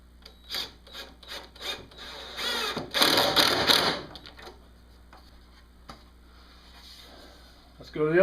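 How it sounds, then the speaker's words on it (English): Screws being driven into wood while building a wooden dog feeding station, a series of short rubbing, grinding bursts followed by a longer, louder run of driving, then quieter handling noise and a brief thump at the end. "Now I'm going to put these screws in on the ends."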